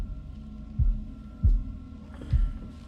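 A slow, deep heartbeat throbs in the horror video game Little Hope, three heavy muffled beats spaced under a low steady hum, with no talking over it.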